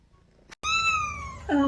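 A cat lets out a single long, loud, drawn-out meow close by, rising into a higher strained cry at the end, after a brief soft rustle.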